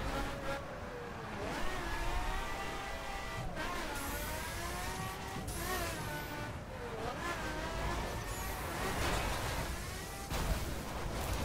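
A Pagani Zonda hypercar engine in The Crew racing game revs and shifts through gears, a loud, continuous snarl rising and dropping in pitch with brief gaps between shifts.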